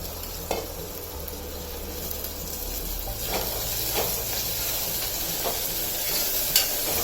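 Coriander leaves frying with mutton kheema give a continuous sizzle with occasional stirring clicks and scrapes. A low hum runs underneath and no one talks.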